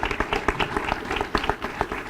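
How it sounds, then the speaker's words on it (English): An audience at a convocation ceremony applauds the faculty, with rhythmic, fairly loud clapping from a crowd in a large hall and individual claps clearly standing out. "Please join me in a round of applause for them."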